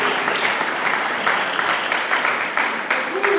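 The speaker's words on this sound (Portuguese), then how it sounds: "Os irmãos podem sentar igual o Senhor com as palmas bem fortes para Jesus." A church congregation at a Friday night service claps loudly and steadily, a dense, sustained wash of many hands filling the room throughout.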